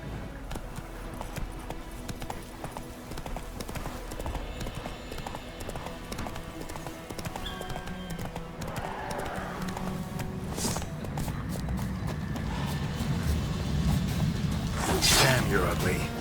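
Horse hooves clip-clop at a steady gallop in The Witcher 3, running continuously under game ambience and music with a few brief voices, growing slightly louder toward the end.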